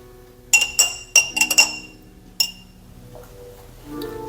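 Spoon clinking against the side of a glass of brewed coffee, several sharp bright taps in a quick cluster, then one more tap after a pause, close and clear with no talk.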